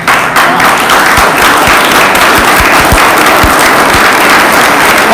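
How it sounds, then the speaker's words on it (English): A church congregation at a retreat in Gujarat claps loudly and continuously, a close, dense roar of hands with sharp individual claps standing out throughout. "What a clapping that was"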